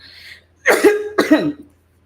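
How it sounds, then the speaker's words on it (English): Two loud, close coughs in quick succession, each a harsh burst, with near silence on either side. "You don't have to see me coughing, but you may hear me coughing."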